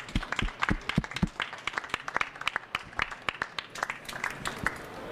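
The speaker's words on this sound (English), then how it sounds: "I think we can give him a warm applause." A small audience at a technical talk on APT signals claps for about five seconds. The claps are distinct and uneven, fairly close, and gradually thin out, with no speech over them.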